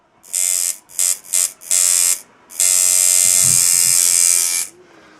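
A welded-frame rotary tattoo machine set up as a color packer buzzes in several short, close bursts, followed by one longer steady run that cuts off.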